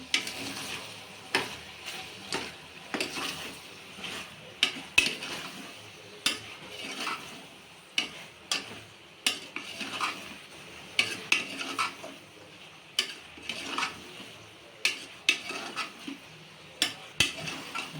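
Boti, goat tripe curry with turmeric, ginger and garlic, is stirred in a cooking pot: rhythmic scraping and clinking strokes about once a second over a faint sizzle, with no talking.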